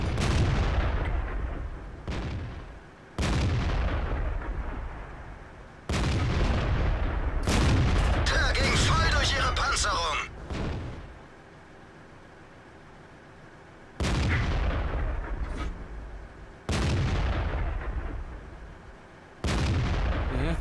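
Tank cannon fire in World of Tanks, heavy booming shots with long rumbling decays coming in several separate bursts, loud and close, no talking.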